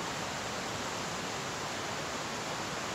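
A river flows beside a campsite in the Great Smoky Mountains, its steady, dense rushing roar unbroken and close throughout. No voices are heard.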